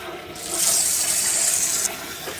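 Water rushing from an under-sink drinking water filter fed by well water, a steady close hiss that swells after a moment, holds, then drops back to a lower flow.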